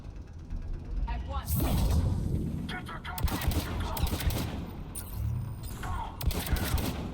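Rapid pistol gunfire in the sci-fi shooter Mass Effect 3 Legendary Edition, loud repeated sharp shots layered over mechanical clanks and dense combat noise throughout.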